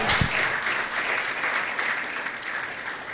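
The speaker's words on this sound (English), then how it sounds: "A round of applause for him, please." A conference audience at a national financial literacy event applauding, a dense, steady wash of clapping from many hands that holds at an even level throughout, with no speech over it.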